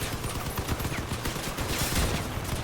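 Rapid vehicle weapon fire from a Crossout battle, a dense stream of cracks and bursts layered over engine noise, loud and continuous throughout.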